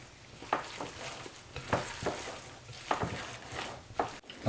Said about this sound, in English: I'm just going to mix this in here.